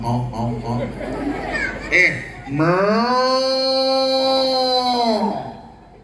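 Children's voices imitate a cow's moo with a long, drawn-out call that follows some brief chatter, and the imitation is loud and close.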